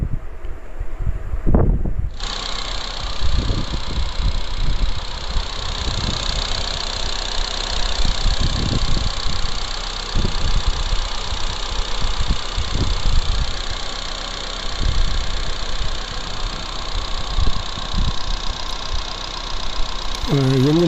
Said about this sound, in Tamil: இனிமேல் ஸ்டார்ட் பண்ணி இன்ஜின் சவுண்டு காமிக்கிறேன்.